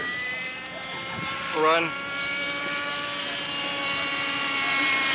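A radio-controlled helicopter flies at a 1989 US Scale Masters event, its rotor and engine whine holding a sustained, rising-and-falling drone, heard under outdoor commentary with a short word spoken.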